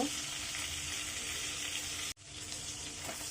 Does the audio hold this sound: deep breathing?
no